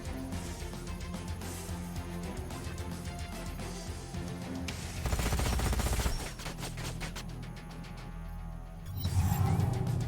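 Sci-fi combat in Age of Wonders: Planetfall, with a steady rattle of weapon fire under game music swelling into two louder, harsher bursts of missile impacts, the second near the end.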